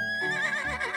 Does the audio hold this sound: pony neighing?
yes